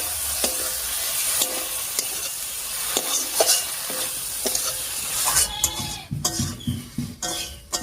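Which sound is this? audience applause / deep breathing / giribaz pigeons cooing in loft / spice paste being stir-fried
spice paste being stir-fried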